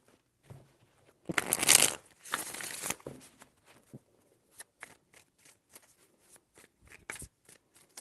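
Tarot cards are shuffled close up in two loud riffling bursts, followed by a string of light taps and flicks as the deck is handled.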